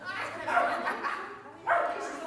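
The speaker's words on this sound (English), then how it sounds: "Okay, who's barking?" Dogs on leashes at an obedience training session, with barks in a couple of short bursts at moderate distance, mixed in with people talking.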